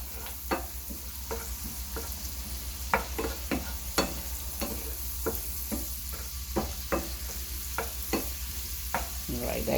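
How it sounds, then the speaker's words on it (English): Garlic paste stirred around in a sizzling pan for rasta pasta, with a steady soft frying hiss underneath and repeated scraping taps of the utensil against the pan at an irregular pace. "I'm gonna put that garlic in there. Mix it around a little bit."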